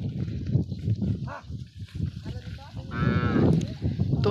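Cows and calves on a riverside char near the India–Bangladesh border moo close by, with several overlapping low calls and one long, loud moo near the end, surrounded by lively farm noise.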